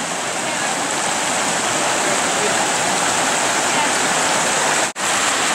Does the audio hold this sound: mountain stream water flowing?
yes